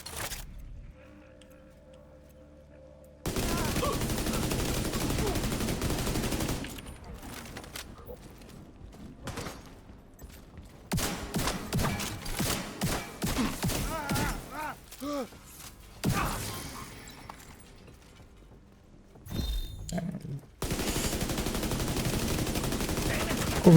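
Bursts of video game gunfire, loud and near, come in clusters and rapid volleys between quieter stretches, with a player talking over parts of the action.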